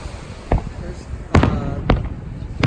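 Fireworks at a 4th of July show in Redondo Beach burst in four sharp, loud booms spaced irregularly over a low crowd murmur.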